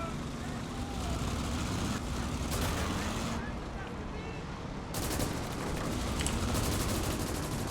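Machine gun fire rattles in the Call to Arms - Gates of Hell Ostfront World War II battle game, repeated bursts over a constant roar of battlefield noise, with a brief lull midway before the shooting resumes loudly.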